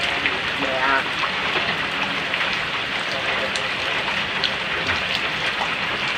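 Steady rain falls with a dense, continuous hiss and patter on surfaces, fairly loud and unbroken throughout, with faint voices murmuring underneath.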